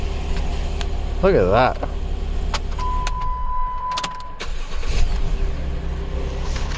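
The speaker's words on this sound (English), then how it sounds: "Oh, look how smooth that started up." A 2011 Jeep Wrangler's 3.8-liter engine cranks briefly and starts after an ECU replacement, then settles into a steady, smooth idle, with a person speaking near the vehicle.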